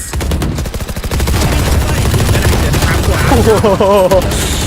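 Rapid automatic gunfire in the tactical shooter Valorant comes as a loud, close burst of fast shots, then continuous firing with game effects, while a player's voice breaks in near the end.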